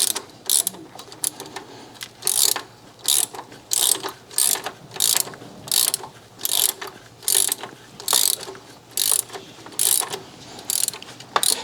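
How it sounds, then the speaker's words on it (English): A ratchet wrench tightens a bolt on an aluminum engine block of a 2014-2019 Chevy Silverado or GMC Sierra, clicking in quick bursts of stroke after stroke, close and steady with short pauses between swings. "Now we're going to tighten it up with the ratchet set."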